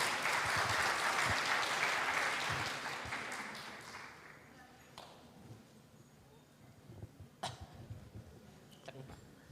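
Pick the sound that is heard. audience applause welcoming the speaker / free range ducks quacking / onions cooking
audience applause welcoming the speaker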